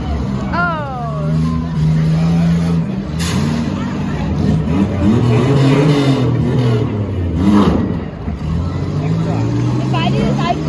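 Demolition derby cars running, engines revving and rumbling with heavy mechanical clatter while a voice speaks over the noise.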